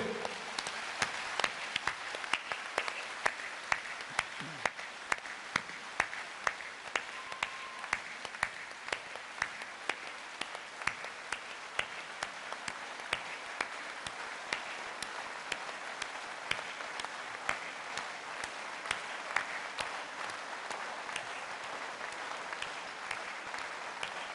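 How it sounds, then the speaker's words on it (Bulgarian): A standing crowd gives sustained, even applause in tribute at a Bulgarian public gathering, a long, moderately distant wash of clapping with occasional sharper individual claps poking through. "Аз ви предлагам сега да почетем неговата памет, като 30 секунди пляскаме с ръце и станем прави"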